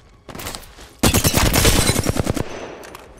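Rapid automatic gunfire in the Apex Legends video game: a short burst, then a longer loud volley of close, fast shots that stops abruptly.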